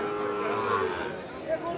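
Young bulls and cattle at a livestock market low in a sustained, muffled moo amid busy crowd noise and nearby voices.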